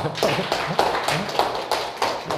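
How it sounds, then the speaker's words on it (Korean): A lecture audience claps in a sparse, uneven way, distinct hand claps landing about every half second and fairly near, with quiet murmuring underneath. "이게 정말 정답 맞췄는데 박수 한번 해주세요."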